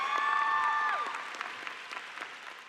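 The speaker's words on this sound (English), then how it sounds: "So give him a round of applause." Applause at a high school commencement, a steady crowd clapping that starts strong and slowly thins out, with a sustained tone in the background early on.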